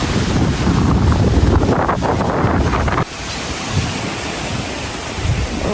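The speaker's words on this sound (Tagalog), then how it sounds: "Grabe po dito. Lakas ng hangin." Strong wind buffets the microphone outdoors on a farm during a green chili harvest, a steady loud rumbling roar that eases slightly partway through, with no one speaking.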